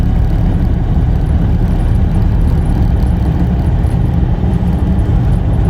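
A 1978 Citroen Dyane car drives along country lanes, its engine a loud, steady, low-pitched drone that continues without a break, with road and wind rumble underneath and no talking.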